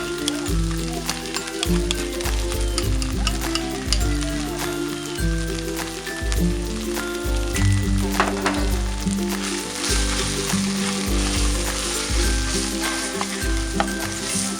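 A tuna and tofu sisig mixture fries in a pan with dense, continuous sizzling like rain, under steady music throughout.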